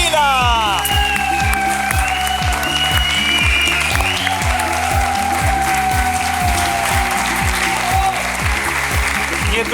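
An audience applauds warmly for a performer at an Albanian talent show, sustained dense clapping filling the hall, loud and steady, with a voice speaking over it and a bright musical flourish early on.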